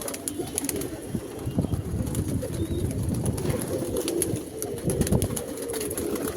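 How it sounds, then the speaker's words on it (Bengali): Pigeons in a loft coo continuously in a low, rolling chorus as they come down to drink water, with light shuffling and scattered clicks throughout. "পায়রারা জল খেতে নেমে গেছে"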